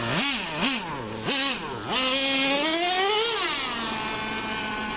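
A Traxxas nitro RC car, T-Maxx, revs hard while trying for a wheelie: several sharp, rising throttle blips followed by a long climbing wail that settles to a steady high buzz, loud and close.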